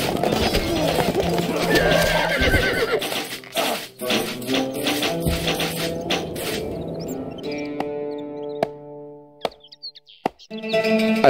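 Horses whinny and snort amid clattering hoofbeats and tapping in the video game Stronghold Crusader, followed by sparse pitched tones and a few sharp knocks.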